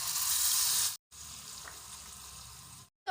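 Tamarind paste for puli kaichal fries in a pan with a steady, bright sizzle, broken by two brief silences before the crackling resumes.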